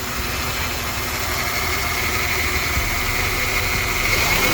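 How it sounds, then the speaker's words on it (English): A Honda F23A engine swapped into a 1998 Odyssey idles steadily close by, with a continuous low rumble and a slight rise and fall in pitch as the idle surges. "See how it kind of idles up and down?"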